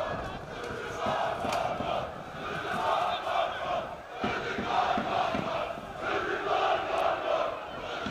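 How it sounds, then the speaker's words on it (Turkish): Football supporters chanting and roaring in the stands at Iğdır Stadium during a Turkish third-tier league match, a dense continuous crowd noise with rhythmic swells, loud and sustained throughout. "Taraftarların tezahüratıyla"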